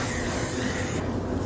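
A steady spray paint can hiss runs continuously onto a glass vase, loud and close, then thins out near the end as the nozzle eases off.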